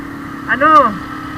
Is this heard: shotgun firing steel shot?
no